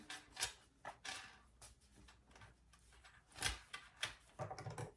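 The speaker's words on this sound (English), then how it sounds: "Then I'll cut off my excess zipper." Scissors snipping off the excess length of a zipper while sewing a shoulder bag, a series of short, sharp clicks and snips spaced irregularly, close and quiet.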